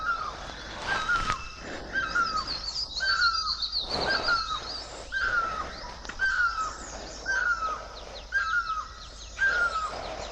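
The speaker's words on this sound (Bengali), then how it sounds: "কত রকম পাখি ডাকছে দেখো, সাউন্ডটা শোনো" Many kinds of birds sing in a quiet hill spot at Lamahatta and Lepchajagat in North Bengal, with repeated clear chirps and whistled phrases every second or so, some near and some farther off, over a soft outdoor hush.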